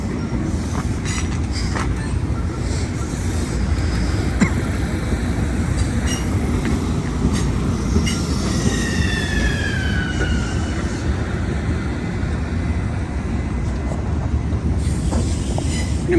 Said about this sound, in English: And there goes train 1056 into the yard.